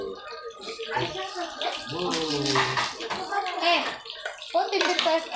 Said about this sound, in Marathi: हे बुडबुडे कमी होईपर्यंत तळून घ्या